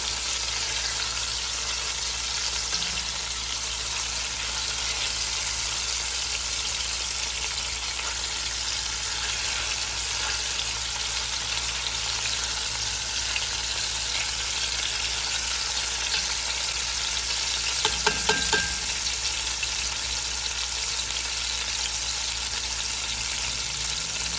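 Oxtails frying in vegetable oil give a steady, even sizzle that runs for the whole stretch, with a brief clatter partway through and no talking.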